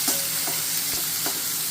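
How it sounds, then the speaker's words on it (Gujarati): Chopped tomatoes and onions fry in a pan with a steady hiss of sizzling oil, broken by a few soft scraping stirs, close up and with no voices. "રફલી ચોપ કરેલા ટામેટા અને ડુંગળી એડ કરીશું. એને મસ્ત ખવા દઈશું."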